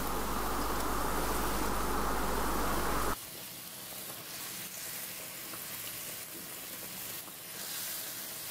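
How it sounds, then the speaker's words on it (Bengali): Fried koi fish slide into boiling gravy in a pan: a loud hissing sizzle for a few seconds drops abruptly into a softer bubbling simmer with light stirring. "দেখুন ঝোলটা ফুটে গেছে। এখন দিয়ে দিচ্ছি ভেজে রাখা কই মাছগুলো।"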